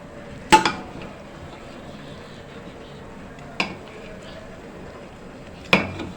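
Chicken dum biryani is served from its pot with three sharp, well-spaced metallic clanks of a spoon against the pot's rim, over quiet room tone with a voice in the background.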